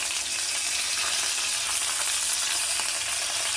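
A steak sizzles steadily in a hot pan after the flip, a dense, even frying hiss that holds loud and close throughout with no talk.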